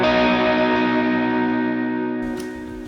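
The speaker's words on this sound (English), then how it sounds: "It turned on my reverb and my overdrive." An electric guitar rings out with reverb and overdrive pedals switched on, one sustained distorted chord decaying over a few seconds before a short click cuts in near the end, with no voices.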